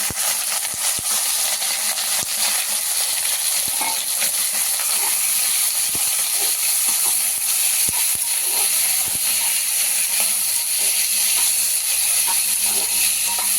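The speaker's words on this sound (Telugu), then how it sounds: "ఇప్పుడు దీంట్లో కాకరకాయ వేసేసుకోవాలి" Bitter gourd pieces sizzle in hot tempering oil in a pan, a steady bright hiss that runs without a break, with soft clicks and taps scattered through it, close and even in level.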